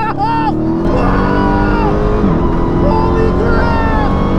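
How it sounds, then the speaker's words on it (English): A Dodge Challenger SRT Demon's powerful engine roars and climbs through the revs as it launches and accelerates hard, with excited voices shouting over it. "The Demon takes off at an incredible, unnatural rate"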